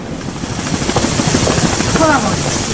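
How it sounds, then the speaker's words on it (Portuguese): A helicopter flies over a city, its steady rotor drone loud and rising as it passes close overhead, with a voice briefly audible beneath it. "Não para de passar helicóptero."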